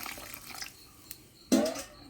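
A short splash of water poured into a pan of chickpea curry, arriving suddenly after a quiet stretch with faint clinks, then trailing off.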